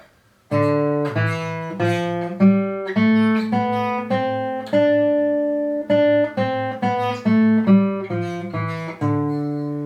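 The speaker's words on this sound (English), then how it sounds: "the scale that I played right there was called the Dorian Scale" A bright keyboard plays a melodic Dorian scale passage, notes stepping up and down at a steady pace over a sustained low bass note.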